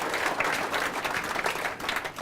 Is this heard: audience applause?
yes